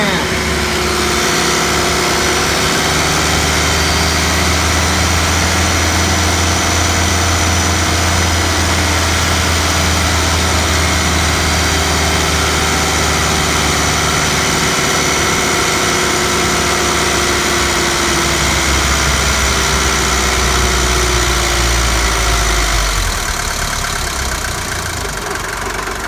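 A loud diesel car engine idles steadily and close, a continuous knocking rumble with no cooling fan running, on a car whose AC compressor is leaking at its housing.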